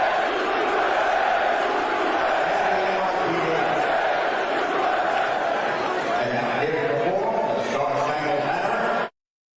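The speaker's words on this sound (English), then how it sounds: "You hear that crowd saying USA?" A crowd at a sports game attended by the US president chants USA. The roar is continuous and loud, mixed with cheering, until it cuts off abruptly near the end.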